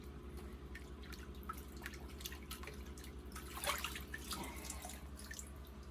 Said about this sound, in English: Let it drip dry a bit.